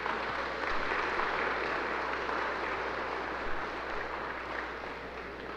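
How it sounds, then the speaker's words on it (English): Steady, dense applause from a concert audience at a school spring gala, honoring a show choir after its performance; the clapping holds at an even level throughout, fading slightly toward the end. "we have another round of applause for the show choir that just performed"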